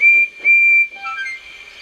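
A steam engine whistle shrieks in two long sustained blasts, loud and close, then trails off into softer, wavering tones with a faint hiss underneath.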